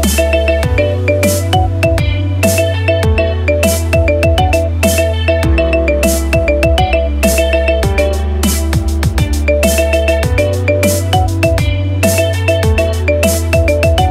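A marimba remix ringtone plays loud and steady: a bright, repeating mallet melody over a pulsing bass line, with no voices.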